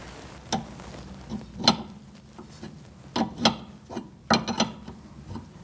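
A 21mm wrench works loose a jam nut on a 2008-2014 Mercedes-Benz C300 front inner tie rod, giving close, quiet metallic ratcheting clicks in uneven clusters with short pauses between them.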